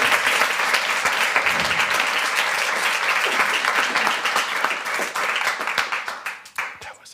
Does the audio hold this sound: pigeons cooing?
no